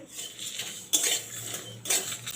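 Whole spices for a homemade fish-curry masala are dry roasted in a hot wok, with close metallic scrapes of a spoon against the pan coming in two sharp bursts over a soft background.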